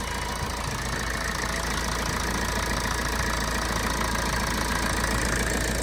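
A Toyota Auris with a failing alternator idles steadily, a constant loud engine drone close to the mic with no speech.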